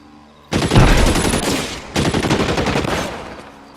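Gunfire in the LA Noire video game: two loud, sustained bursts of rapid automatic shots, the first starting abruptly and running about a second and a half, the second following after a brief lull.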